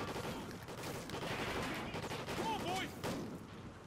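Continuous gunfire in the Call of Duty Ghosts video game, a dense crackle of rapid shots from several weapons, fairly faint and steady throughout with a few brief tonal blips.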